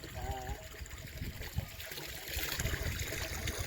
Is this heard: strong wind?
no